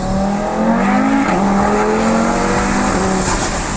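Procharged Cobra engine revving hard and close, a loud sustained roar with rising harmonic whine that climbs, dips briefly and climbs again over nearly four seconds, with no talk.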